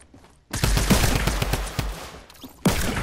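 Rapid burst of pistol gunshots in Fortnite, a dense volley of sharp loud cracks after a brief quiet start, then a second shot cluster near the end, with no talking.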